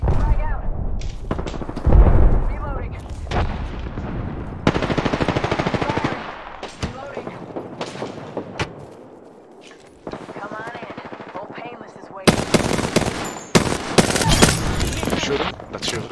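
Loud video-game battle with rapid machine-gun bursts, scattered gunshots and heavy artillery booms from a tactical shooter match, dense and continuous over the whole stretch, with a voice speaking over the fire.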